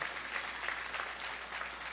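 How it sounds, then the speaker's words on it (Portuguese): A church congregation applauds praying mothers, a short stretch of dense, even clapping from a crowd, moderately distant and soft. "Você pode aplaudir as mães que oram?"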